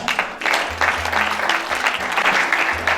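Applause welcomes Éric Toumba to the stage at a Lipanda Day event in the DRC, a steady dense clapping from a nearby crowd lasting throughout, with a low hum underneath.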